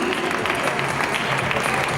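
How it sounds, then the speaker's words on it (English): Audience applause at a children's PYP 5 graduation ceremony, a steady, dense wash of clapping from a crowd throughout, close and even with no voices standing out. "Please clap for them."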